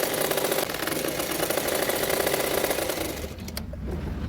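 A sewing machine runs a continuous fast stitch along the side seams of a peplum top, a close, steady mechanical whir with rapid needle clatter that slows and stops near the end, with no talking.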